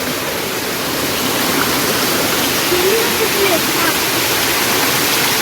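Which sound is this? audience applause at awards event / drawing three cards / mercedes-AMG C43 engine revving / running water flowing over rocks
running water flowing over rocks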